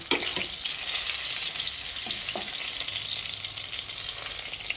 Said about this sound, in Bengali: মাছের 2 সাইড আমি ভালো করে ভেজে নিয়েছি।